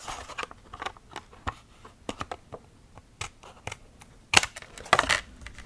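Card stock is trimmed at a crafting table for handmade card making, giving faint, irregular crisp snips and light paper rustles. A couple of sharper clicks stand out near the end, with no talking.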